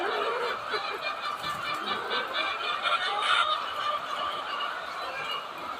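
Chickens at a poultry farm feed together, giving a busy, continuous chorus of clucks and chattering calls at moderate loudness with no clear speech.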